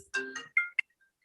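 Mobile phone ringtone going off during a pension fund committee meeting, a short tonal chime of a few quick rising notes that stops abruptly, heard alone in an otherwise quiet room.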